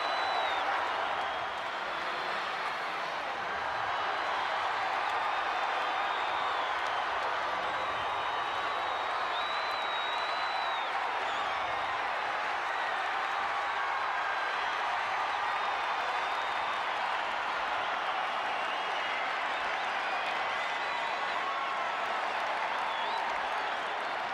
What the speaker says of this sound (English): just listen to that crowd